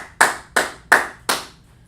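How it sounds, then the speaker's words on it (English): Four crisp hand claps ring out in an even rhythm, close and distinct with short decays, from an audience showing appreciation. "clap it up for that brother right there"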